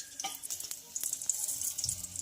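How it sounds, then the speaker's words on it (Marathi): Oil poured over garlic in a wok gives a soft, steady sizzle with faint crackles and a few sharp clicks, close by and alone, for about two seconds. "कढईमध्ये मी लसूण घातलेला आहे. परत त्यावर घालत आहे 2 चमचे तेल,"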